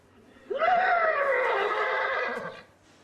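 A person imitates a horse's neigh, a single drawn-out whinnying call lasting about two seconds, close and fairly loud in a quiet room.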